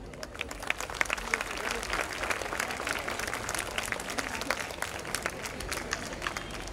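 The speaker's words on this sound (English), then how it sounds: "let's give a hearty round of applause and welcome His Eminence" A school annual day audience bursts into sustained applause, many hands clapping in a dense, steady crowd roar with scattered louder claps throughout.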